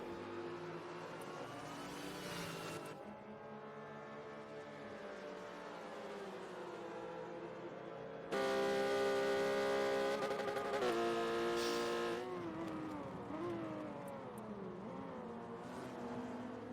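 Porsche race cars lapping Monza in a racing video game, engines droning steadily with shifting pitch, a louder, nearer pass swelling in the middle before settling back to a continuous race-engine hum.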